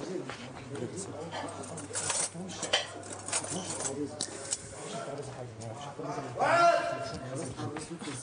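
Dishes, cutlery, knives and glasses clatter and clink repeatedly while people talk throughout, with a louder burst of clanking near the end.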